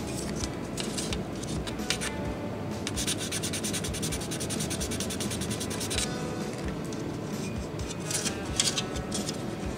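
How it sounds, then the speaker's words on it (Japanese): Putty being hand-sanded on a 1/12 Italeri Abarth 695SS model car, a steady close scratching rasp of repeated back-and-forth strokes that continues without pause. "こうやって地道に削っていくしかないのでコツコツやっていきましょう"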